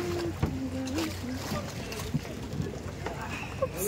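A gondola glides along a Venice canal, with steady water lapping and boat noise over a constant ambient wash, punctuated by a few faint knocks; voices murmur in the background.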